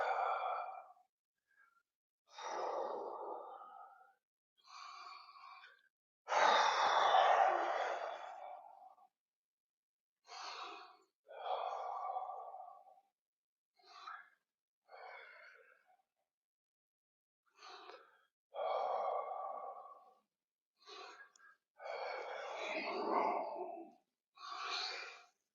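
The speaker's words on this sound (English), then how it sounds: "Deep breathing." Slow deep breaths during a martial arts class warm-up, each long inhale and exhale standing alone with quiet gaps between, close and fairly soft, some breaths heavier than others.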